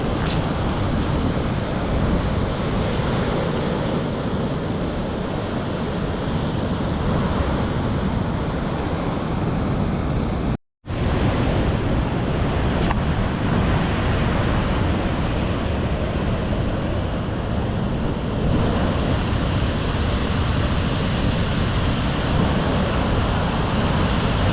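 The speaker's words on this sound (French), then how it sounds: "Les vagues sont énormes." Huge ocean waves break along the Namibian coast in a continuous loud roar of surf mixed with wind buffeting the microphone, with one brief dropout partway through.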